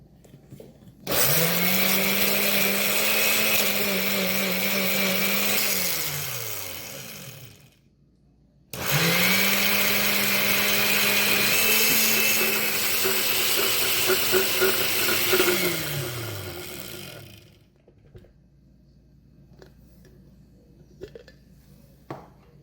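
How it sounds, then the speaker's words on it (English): A kitchen blender purees avocado and olive oil for a quinoa salad, running in two loud steady whirring bursts separated by a brief stop, the motor pitch rising then dropping as it spins down, followed by quiet clinks. "A little bit of also olive oil. You know, the olive oil goes really good with the avocado, and then we blend it."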